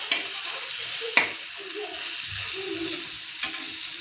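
Tomatoes frying in a pan for a Marathi peanut curry, a steady sizzle with a few sharp scrapes of a spoon stirring through, close and moderately loud, no talking.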